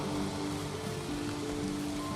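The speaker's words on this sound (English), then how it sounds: "I'm heading back to the shed because it's raining a bit" Steady rain in the video game Valheim, a dense continuous hiss with low rumble, even and unbroken throughout with no voices.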